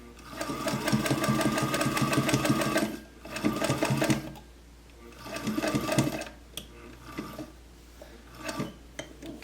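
A Singer Featherweight sewing machine stitching patchwork runs in three or four loud, rapid mechanical bursts of needle clatter separated by pauses, with faint handling noise between runs.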